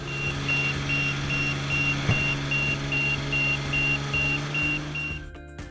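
A Niftylift HR-series boom lift sounds its tilt alarm, a steady, evenly spaced run of short electronic beeps over a continuous engine hum, with one brief knock partway through.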